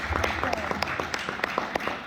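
Audience at a neighborhood meeting clapping after officers are elected, a scattered round of hand claps at moderate distance, sparse and uneven.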